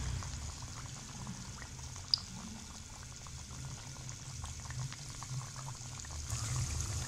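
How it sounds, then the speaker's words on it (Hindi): Small sweet pakoras fry in oil over a low flame, giving a soft, even, continuous bubbling sizzle that stays quiet and steady throughout, with no one talking. "मीठे पकोड़ों को हम लो फ्लेम पे पकाएंगे और छोटे छोटे डालेंगे"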